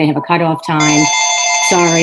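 A mobile phone rings during a regional school board meeting, a steady electronic tone sustained under a man's ongoing speech.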